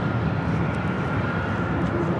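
Southwest Airlines Boeing 737-700 jet taking off from runway 24 left at Los Angeles International Airport, a steady broadband engine roar holding at an even level, heard from a distance with no other sounds over it.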